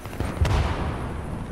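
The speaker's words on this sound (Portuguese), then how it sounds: "Olha a explosão da granada, que foda" A single deep grenade explosion in a Battlefield video game booms with a sharp crack, then a low rumble trails off, heard alone.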